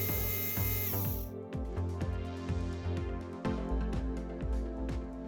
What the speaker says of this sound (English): So there's 4 star-shaped screws on the back that need to come out first.